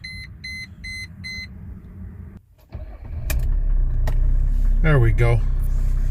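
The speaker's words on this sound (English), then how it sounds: "Let's start it up." A Mercedes-Benz W210 E300 Turbodiesel with 137,000 miles starts up: dashboard chimes beep four times, the starter cranks briefly, then the diesel engine catches and settles into a loud, steady idle while someone speaks briefly.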